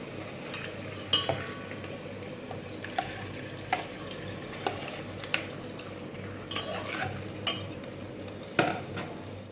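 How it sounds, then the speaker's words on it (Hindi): Spices being stirred in a cooking pot for beef korma, with a spoon scraping and clinking against the metal at irregular intervals over a low, steady sizzle; no talking. "इसको अच्छी तरीके से मिक्स करेंगे और मिक्स करने के बाद इसके अंदर बीफ ऐड कर देंगे।"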